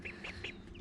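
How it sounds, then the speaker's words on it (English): Farm duck quacking in three or four short, nasal calls spaced evenly apart, faint and fairly close, with nothing else over it. "And we still have the other duck."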